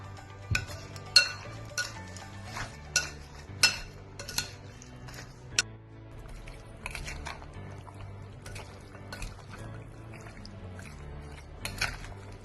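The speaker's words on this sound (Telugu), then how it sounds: "ముక్కలకు అంతటికి ఇలా బాగా కలిసేలా పట్టించుకోవాలి" Chicken pieces are tossed by hand with salt, chili powder, ginger-garlic paste and spice powder for chicken pickle, giving soft irregular squelching and mixing sounds with a few sharper clicks against the bowl, close and quiet, no talking.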